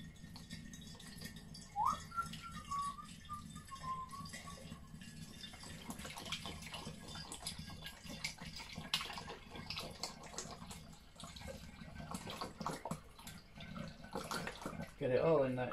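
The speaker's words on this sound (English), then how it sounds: "Just pour it straight into your sanitised demijohn." Apple juice poured from a bottle into a sanitised glass demijohn, a faint running liquid trickle with irregular splashes and gurgles at a modest distance, mostly alone without talk.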